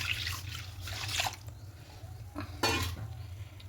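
500 grams of packet milk poured into a wok holding a little water, a splashing, dripping liquid stream with light clinks of metal over a low stove hum.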